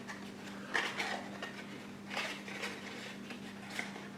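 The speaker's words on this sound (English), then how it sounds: "open the box up" Cardboard packaging of a Wylex 5 amp switched plug socket being opened by hand, with scattered light rustles and clicks over a steady low electrical hum, close and fairly quiet.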